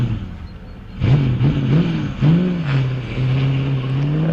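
Vintage sports car of over three litres, unsupercharged, accelerates at a hillclimb, its gruff engine note rising in repeated surges as it changes gear, heard fairly close and alone without voices.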